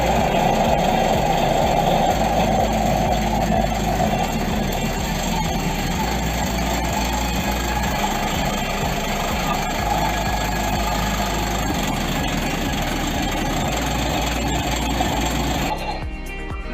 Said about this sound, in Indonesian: ini mesin Yanmar, mesin diesel Yanmar yang digunakan.